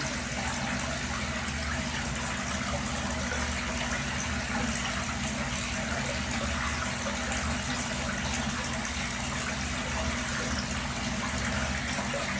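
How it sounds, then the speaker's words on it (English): A washing machine drains its water continuously with a steady low rumble, an unbroken gushing flow at a constant level. "that's the water currently going down"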